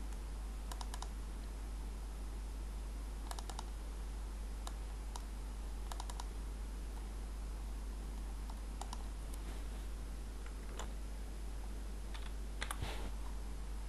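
Typing on a computer keyboard, quiet scattered key clicks in short irregular bursts over a steady low hum, close and faint.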